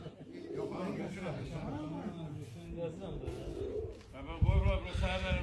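Pigeons coo in repeated soft, throaty phrases, with a louder burst of cooing toward the end; the sound is close and continuous.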